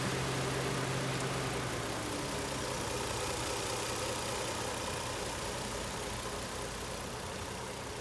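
A Toyota Crown Athlete wagon's 2.5 litre turbo 1JZ engine idling, a steady low even hum with a smooth unbroken drone, heard close and alone with no talking.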